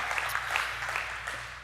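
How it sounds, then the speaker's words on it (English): An audience claps briefly for the fathers at a Father's Day gathering, a soft, scattered patter of hands heard faintly and fading out. "you can clap for the dads"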